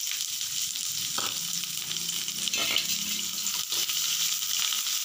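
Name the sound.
chopped onions frying in a pan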